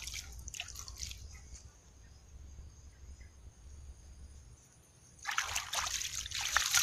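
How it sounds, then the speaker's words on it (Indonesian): Water trickles and splashes onto soil around a newly planted chili plant in two short bursts, one at the start and a louder one near the end, with a quiet hissy stretch between. "Kemudian kita siram"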